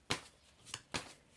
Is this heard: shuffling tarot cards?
yes